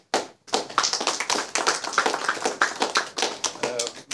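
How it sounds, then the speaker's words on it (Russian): Audience in a conference hall applauds at the end of a scientific presentation, a brisk burst of many hands clapping close and steady for several seconds after a brief silence. "Аудитория аплодировала"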